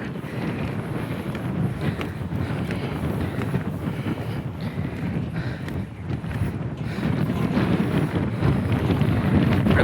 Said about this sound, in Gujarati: કોઈ પણ એવો વાયરો આવે